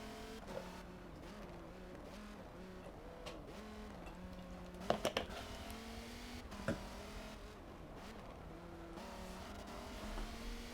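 Race car engines roar around the Nürburgring in Forza 7, a sustained droning whine rising and falling through gear shifts, with a couple of sharp knocks midway and no talk.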